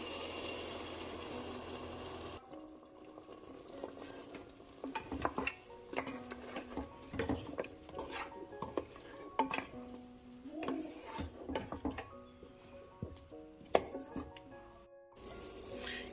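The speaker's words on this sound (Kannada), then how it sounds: "ಈಗ ಇದಕ್ಕೆ ರುಬ್ಬಿರೋಂಥ ಮಸಾಲಾನ ಸೇರಿಸ್ಕೊತಾ ಇದ್ದೀನಿ" Ground masala paste stirred into mutton leg soup in a pot, repeated spoon scrapes and clanks against the metal over a soft sizzle, with short pauses between strokes.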